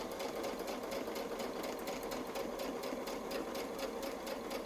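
A sewing machine quilts around a feather shape guided by a Westalee template, its motor humming steadily with a fast, even needle pulse, close and continuous with no voices.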